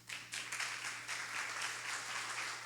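A church audience applauds after a lecture on science and faith, a fairly faint, even wash of clapping from a crowd that carries on throughout.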